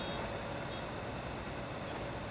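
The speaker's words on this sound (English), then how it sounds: "You're meant to stop, of course, when you hear the alarm." A full-baler alarm in Farming Simulator 19 beeps steadily from CLAAS baling equipment, nearly buried in a constant loud machinery drone and hum.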